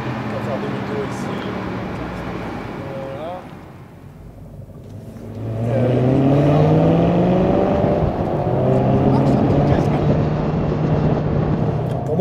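A car engine hums and rises as the car makes a U-turn on the Mont Ventoux road, easing back briefly and then pulling harder and louder, with people talking over it inside the car.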